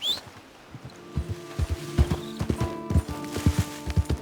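Horse hooves clip-clop at a steady trotting rhythm in Red Dead Redemption 2, the beats close and distinct, with faint creaks and ambient tones in the background.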